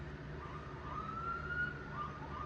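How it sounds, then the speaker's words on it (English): Sirens wailing in the background, a faint rising and falling tone heard from a distance over a low steady rumble. "I hear sirens in the background."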